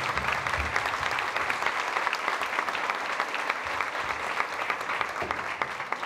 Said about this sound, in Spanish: vamos a recibirlos con un fuerte aplauso al grupo de música del